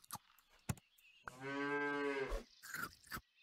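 A single drawn-out cow moo from the video game Super Auto Pets sounds clearly for about a second, flanked by short clicks and bursts of other game effects.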